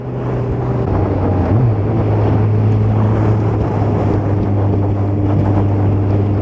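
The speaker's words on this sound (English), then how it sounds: "Welcome to a windy Valdresflya. It's blowing a hoolie up here" Strong wind roars steadily into the microphone on the Valdresflya mountain plateau in Norway, a constant low buffeting rush with a droning hum beneath it.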